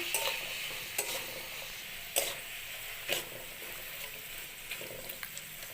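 Spinach cooked with potato, eggplant and beans gets stirred with a mustard and green chili paste, a quiet sizzle punctuated by several distinct spoon scrapes against the pan.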